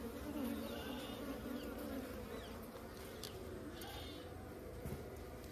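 Stingless bees buzzing in a dense, steady drone during a honey harvest, with smoke used to drive them off, close and continuous, with faint background sounds.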